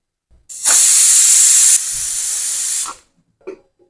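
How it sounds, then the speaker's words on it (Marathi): A pressure cooker full of vegetables for pav bhaji lets out a loud, sustained steam whistle and hiss lasting about two and a half seconds, then cuts off abruptly, leaving a faint clink afterward. "भाजीला 3-4 व्हिसल लावून घेऊया।"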